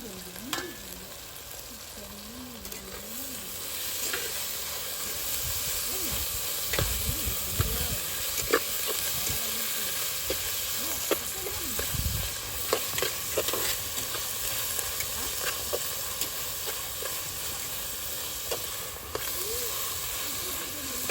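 Chicken masala with tomato and fresh coriander sizzles in a pan under a constant steamy hiss, while a spoon stirs and scrapes the pan with soft, irregular clinks.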